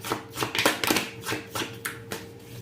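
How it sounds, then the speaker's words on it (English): Tarot cards being shuffled by hand, a series of quick papery riffles and soft slaps coming in irregular bursts, close and fairly quiet, with no talking. "as I go ahead and shuffle"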